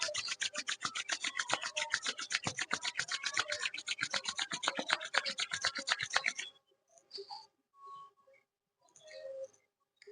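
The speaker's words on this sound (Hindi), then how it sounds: "थोड़ा सा हाथों को रब कर दिए।" Palms rubbed briskly together during a yoga session, a dense, steady rasping swish that runs close and loud for about six seconds, then stops and leaves only faint scattered rustles.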